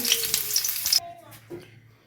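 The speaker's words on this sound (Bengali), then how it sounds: "ফুলকপিটি আমি আস্তে আস্তে ভেজে নিচ্ছি দেখুন একটু একটু লাল হয়ে গেছে" Cauliflower florets fry in a pan of hot oil, a loud close sizzle for about a second that cuts off abruptly, followed by quiet clinks and a faint brief hiss.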